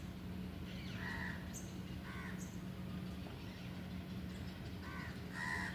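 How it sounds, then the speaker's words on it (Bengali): Several crows caw in short bursts near food outdoors, the calls spaced out with pauses between them over a steady low background hum. "কাকগুলোর কি সাহস, ওর কাছে বসে আছে।"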